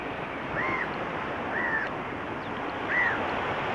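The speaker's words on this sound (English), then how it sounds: "Yeah, I really miss the sound of the waves." Sea waves wash steadily onto the beach at Batu Ferringhi, Penang, a continuous broad surf roar with slight swells in loudness and a few faint bird chirps above it.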